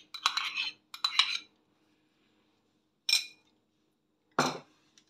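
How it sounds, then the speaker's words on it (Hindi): Yogurt is added to raw chicken for a marinade, heard as two quick bursts of spoon-on-bowl clinking and scraping followed by two short separate knocks, close and fairly quiet, in an otherwise silent kitchen. "सबसे पहले इसमें मैं चिकन में योगर्ट डालूंगी।"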